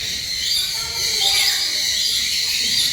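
A bird calling among many colourful birds, with shrill, continuous chirping that sits over a steady outdoor hiss, loud and close, with no talk.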